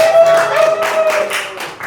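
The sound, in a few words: audience clapping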